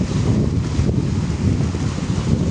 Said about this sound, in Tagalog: Hindi ko alam kung bagyo na ito sa amin.